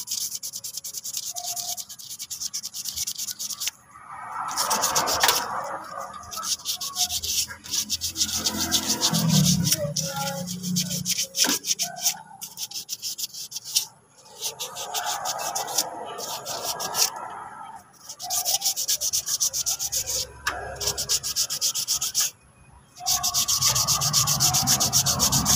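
Steady, scratchy rubbing of fine sandpaper on rusty brake metal goes on back and forth in long strokes, broken by brief pauses, close and fairly loud.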